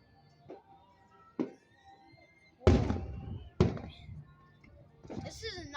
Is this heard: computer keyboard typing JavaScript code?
no